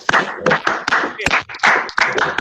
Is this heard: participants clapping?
yes